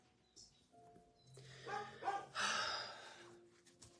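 Dogs bark and yip, frightened by fireworks, with a few sharp calls building into a louder burst near the end, fairly close but at modest volume against a quiet room.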